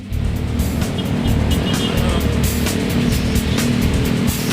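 Road traffic on Araneta Avenue in Quezon City at evening, with a loud nearby car engine roaring past amid steady vehicle rumble and faint background voices.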